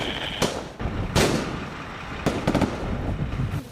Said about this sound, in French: mais les coups de feu sont audibles.